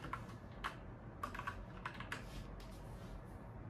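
Quick, uneven bursts of typing on a computer keyboard, close and fairly quiet, with clustered clicks over a low steady room hum and no talking.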